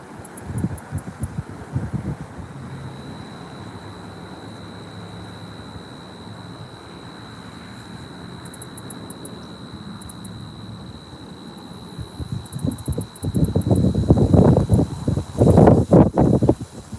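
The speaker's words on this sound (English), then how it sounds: "Some good wind gusts." Wind rumbles against the microphone while carp fishing, quieter at first, then builds into strong, buffeting gusts toward the end.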